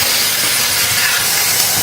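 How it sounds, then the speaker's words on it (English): A vacuum cleaner sucks grout dust out of the gap between a counter and its backsplash, giving a loud, steady, unbroken hiss with no talking. "That's why I like the vacuum."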